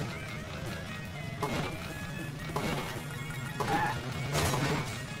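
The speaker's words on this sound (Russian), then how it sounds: "стекло отвалилось" Glass breaks off a bus in the mobile racing game Hill Climb Racing 2, with several sharp crashes and clinks at irregular intervals over a constant engine and game drone.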